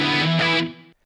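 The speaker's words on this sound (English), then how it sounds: "Now let's take a listen with these new reverb adjustments." A single distorted electric guitar chord through a Line 6 Helix with reverb trails rings out loud for about half a second, then decays smoothly into a fading reverb tail before silence.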